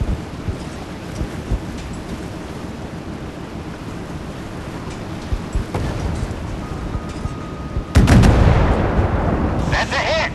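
Warship artillery fire in the naval battle game Force of Warships: a rumbling sea-battle backdrop with scattered booms, then a loud heavy cannon blast near eight seconds followed by crackling echo and a second burst at the end.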